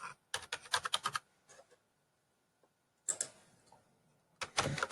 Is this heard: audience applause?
no